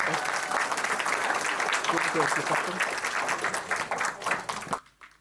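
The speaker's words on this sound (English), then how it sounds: "let's give a big round of applause for Paris Siddartha" An audience at a talk on e-waste solutions bursts into loud, sustained applause mixed with voices, then tapers off and stops abruptly.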